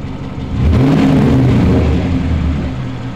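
A car engine revved briefly in a garage-style setting, rising from a low idle into a loud, rumbling surge that holds for a couple of seconds before easing back.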